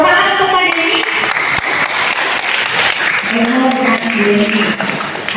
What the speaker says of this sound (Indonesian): Tepuk tangan untuk hari ini.